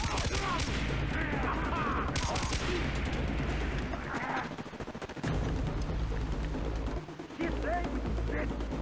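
Gunfire in the first-person shooter Far Cry 3, with dense bursts of shots and booms running through most of the clip, loud and continuous apart from brief lulls, while a voice speaks over the action.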